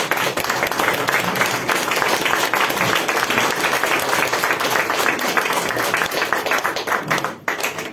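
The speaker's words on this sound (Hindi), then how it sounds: "प्लीज खड़ा होकर ताली दीजिए हमारा मैडम के लिए" A seated audience rises for sustained applause, a dense wall of many hands clapping steadily and loudly at close range for about eight seconds, with a brief dip near the end.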